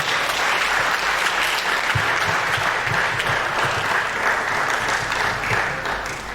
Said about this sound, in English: Can we sustain the applause?